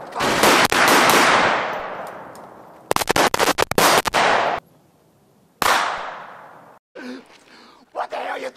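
Gunfire from a shootout scene in the comedy film Harlem Nights, heavy loud bursts with fast rattling volleys, brief gaps and a later short burst, with voices shouting between shots.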